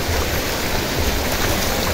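A waterfall on a canyoneering trip pours in a dense, steady roar of rushing water, loud and close and unbroken for the whole moment, with no voices.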